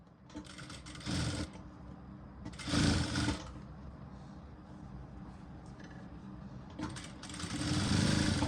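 A sewing machine stitches a long garba blouse in short bursts of whirring needle action, three or four quick runs separated by pauses with faint handling sounds, close and fairly quiet.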